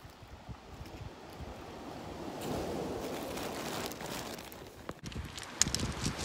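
Sea waves wash against the shore at a marina on the French Riviera, a steady broadband surge swelling and receding with some wind buffeting the microphone, fairly close and continuous, with small knocks near the end.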